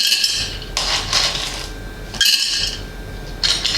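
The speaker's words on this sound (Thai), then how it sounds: "ก็เริ่มจากน้ำตาลกรวดเนี่ยน้ำตาลกรวดอยู่ดิ ใส่ลงไปชั้นนึงก่อน" Hard chunks of rock sugar clatter and clink into a glass jar for plum liqueur, two loud rattling pours with a third starting, close and alone without talk.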